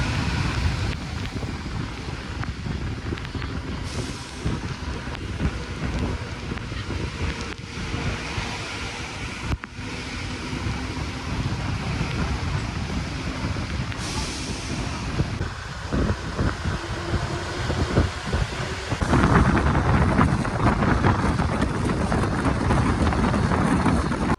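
A state transport bus travels through heavy monsoon rain on the Konkan route from Kankavli to Pokharbav, heard from inside as a continuous, loud roar of engine, road and rain that swells toward the end.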